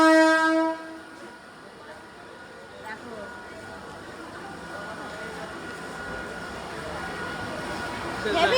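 A train horn blasts loudly for under a second at a railway station, then a long, steady rumble of rolling rail cars follows. A brief sharp sound comes near the end, and people talk over it.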